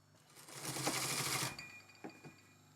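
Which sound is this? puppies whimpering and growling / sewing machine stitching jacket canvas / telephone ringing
sewing machine stitching jacket canvas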